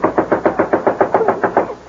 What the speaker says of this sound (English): Then suddenly there comes a light rapping at the door.